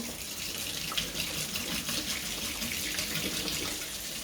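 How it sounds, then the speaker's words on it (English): Tap water runs steadily into a sink, a continuous close splashing hiss with no one talking. "And then I'll run the water so it goes quite warm."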